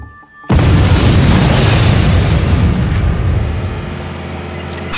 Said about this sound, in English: Sir, I heard an explosion!